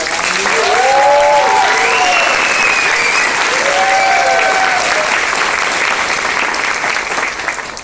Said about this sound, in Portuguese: Gostaria de pedir uma salva de palmas para o meu assistente de direção, o meu estagiário.